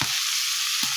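Red amaranth greens go into hot spiced oil, setting off a loud, dense sizzle that hisses steadily throughout, with a brief low thump at the start and again near the end.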